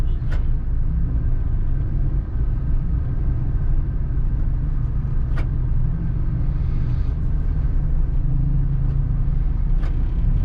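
Continuous dense road traffic stuck in a jam on Karachi's University Road, a broad steady rumble of many nearby engines with a few short sharp clicks or honks standing out at intervals.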